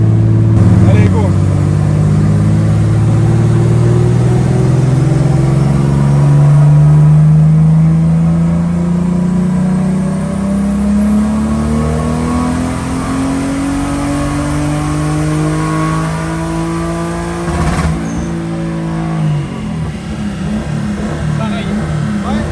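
Tuned BMW E36 turbo car engine idling and then revving, a loud, close, continuous drone that climbs steadily in pitch before settling, with a brief roughness near the end.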